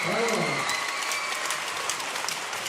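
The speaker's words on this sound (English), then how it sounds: "Russians applaud the crowd, who got really into it" Russian women's volleyball players and the crowd applauding after a match at the Montreux tournament, with scattered clapping across the arena while a commentator's voice speaks briefly at the start before the applause carries on alone.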